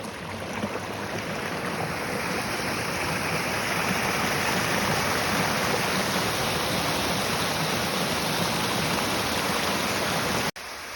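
Old mine drainage water from the Keystone mine complex pouring downslope toward the Castleman River, a dense, constant close rush of flowing water that cuts briefly near the end.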